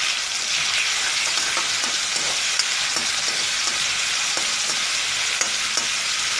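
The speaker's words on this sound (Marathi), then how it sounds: "आता हे सर्व आपण एकदम परतून घेणार आहोत." Grated ginger, garlic and onion sauté in a pan with a loud, dense, unbroken sizzle and faint intermittent stirring scrapes underneath, with no voices.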